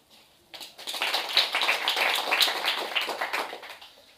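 An audience claps in a group exercise, the clapping swelling from a few hands into a sustained round of moderate loudness with no voices over it.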